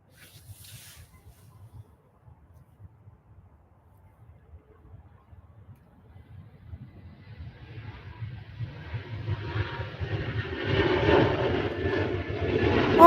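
Air France airliner taking off from Manchester Airport for Paris Charles de Gaulle; faint distant rumble at first, then jet engine roar swells steadily louder as the aircraft approaches.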